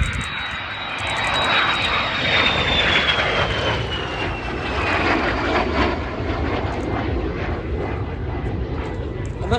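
A de Havilland Vampire jet fighter with its de Havilland Goblin engine flies past at an air show, a loud sustained jet roar with a falling whine as it sweeps by, while a voice talks over it.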